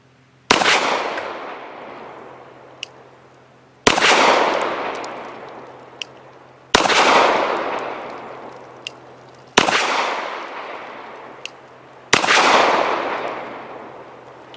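Five loud, sharp pistol shots from a Zenith Girsan Regard, each ringing out with a long decaying echo, spaced roughly three seconds apart, with faint clicks between them.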